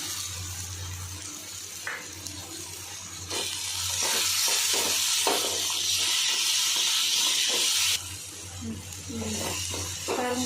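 Chopped tomatoes with salt sauté in a pan, a steady close hiss and sizzle swelling louder midway, punctuated by soft spoon stirs and scrapes, with no talk.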